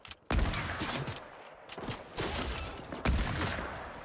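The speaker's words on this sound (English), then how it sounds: "I'm being shot by someone else here." Gunfire in Fortnite, including shots from a sniper, arriving as three loud, sharp bursts with rattling tails and brief lulls between them, close and punchy with no voices.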